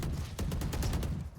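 Judge shotgun fire in Valorant during a competitive match: a quick series of booming shots in close succession over dense game noise, loud and near.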